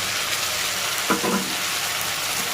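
Garlic, ginger paste and grated tomato sauté in a pan with a steady hiss, broken near the middle by a few quick scraping stirs.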